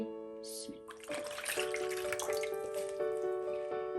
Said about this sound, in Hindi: सबसे पहले 300 ml नीम गर्म पानी ये ऐड कर देंगे